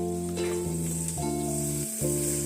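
Oil and a little butter sizzle in a pan being readied for omelets, a steady close frying hiss with a few light clinks and scrapes, and no one talking.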